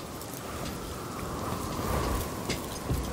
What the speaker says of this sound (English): Rain's pouring